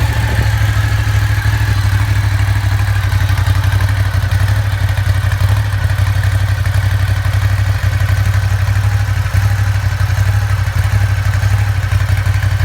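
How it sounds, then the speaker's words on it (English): Ducati Diavel 2016 cruiser motorcycle engine and exhaust running steadily at a loud, close idle, with a constant low rumble and light mechanical clatter, no clear rev rises, and no talk. "The tone of the exhaust is nothing to write home about."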